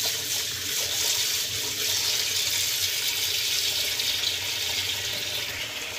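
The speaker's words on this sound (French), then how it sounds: "On va mettre un petit peu de savon et on met uniquement de l'eau chaude" Hot water, with a little soap added, pours steadily from a tap into a sink whose drain is clogged and sloped the wrong way: a constant, close hiss of running water with no pauses or voices.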